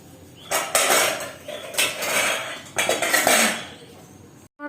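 Gram flour batter for begun fries being whisked in a bowl, bursts of brisk scraping and tapping strokes in quick groups with short pauses between, close and fairly loud.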